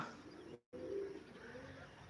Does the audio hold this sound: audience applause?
no